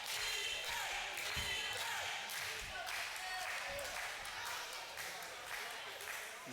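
A professional wrestling crowd cheers at a live match. The noise is faint and distant, with occasional thuds from the ring, and a commentator talks over it.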